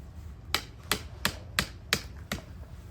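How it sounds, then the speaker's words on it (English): A mallet drives PVC pipes into the ground with six sharp, evenly spaced knocks about a third of a second apart, close and crisp against a quiet outdoor background. "I got my mallet, I'm putting them in the ground"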